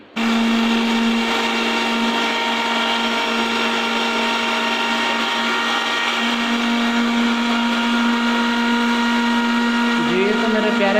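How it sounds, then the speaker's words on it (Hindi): An electric blender grinds egg mayonnaise ingredients in a steady, loud, unbroken whir that runs nearly the whole time, with a small pitch shift near the end. "अब हम इन सारी चीज़ों को अच्छी तरह ग्राइंड करते हैं।"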